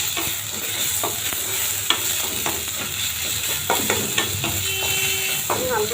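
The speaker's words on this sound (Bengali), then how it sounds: "রসুন আর পেঁয়াজের সাথে এখন আবার একটু নাড়তে হবে।" Garlic paste and onions fry in hot oil in a pan, sizzling loudly and continuously up close while a spatula scrapes and stirs in irregular strokes.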